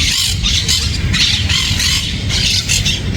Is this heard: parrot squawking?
yes